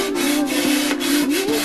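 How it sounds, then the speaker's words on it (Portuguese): A saw cuts through a ceiling panel during a ceiling repair after a leak, a close, continuous rasping stroke sound with steady rhythmic pulses throughout. "Cerrando."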